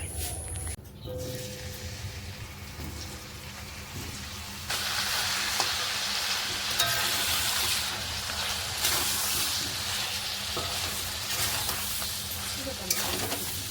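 Sliced potatoes fry in a pan with a steady, close sizzling hiss that grows louder partway through and holds at that level, with occasional faint clicks and no voices.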